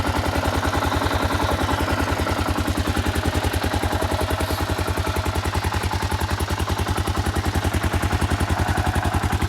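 A 1997 Kawasaki KLR650 single-cylinder motorcycle idles after a cold start without choke, a close, steady, fast thumping beat with mechanical clatter running evenly throughout.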